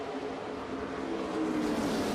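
NASCAR Xfinity Series stock cars roaring through a restart at Iowa Speedway, a dense, steady wall of engine noise that swells slightly toward the end as the pack accelerates, with no talk.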